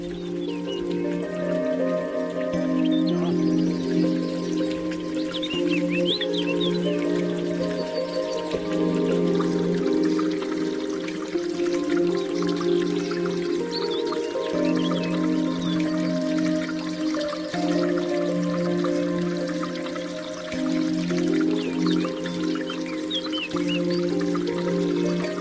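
Stream water gurgling over large boulders on a hiking trail on Kea (Tzia), Greece, a steady continuous flow with a few faint birds far off.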